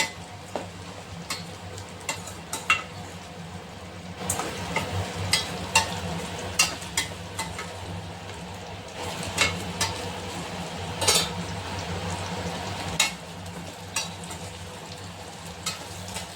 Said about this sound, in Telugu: మనం కంటిన్యూస్గా ఈ జల్లిగరిటె సహాయంతో ఈ ముక్కల్ని